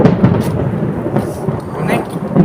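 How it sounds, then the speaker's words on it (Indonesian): Loud, close thunder rolls and rumbles on and on before rain in a village, with a faint patter of drops starting beneath it. "Udah mau hujan itu sahabat tuh, geluduknya gede banget."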